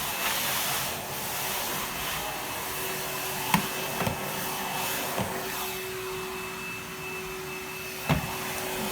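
A Henry cordless vacuum cleaner runs steadily with a constant motor whine and airflow hiss, punctuated by a few faint clicks and knocks as it is pushed about, with no talking.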